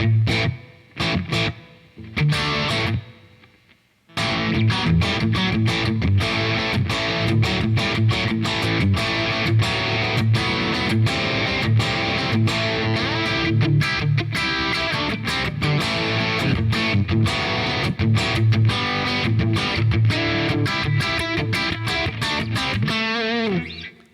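Distorted electric guitar through plate reverb only, playing a steady riff with a roomy reverb tail, after a few short stabs with gaps at the start.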